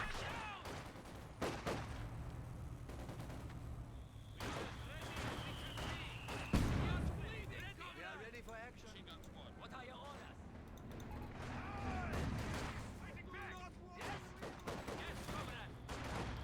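Mortar and gunfire in Company of Heroes 2, scattered thumping explosions and rattling shots in a quiet battle mix, with a commentator talking over much of it.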